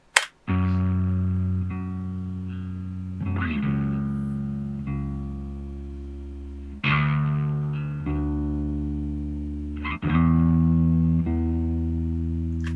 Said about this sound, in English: So you can hear that secondary bass has a lot more distortion on it, a lot more grit.